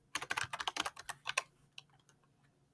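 Typing on a computer keyboard while filling in a budget spreadsheet in Google Sheets: a quick close burst of clicky keystrokes for about a second and a half, then a few sparse, quieter taps.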